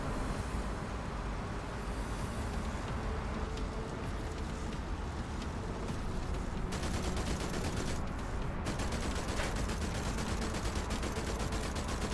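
Rapid, continuous machine gun fire rattles without pause over a dense rumbling background, sustained automatic bursts in a busy battle scene in the video game Diesel and Dust Deadland Delivery.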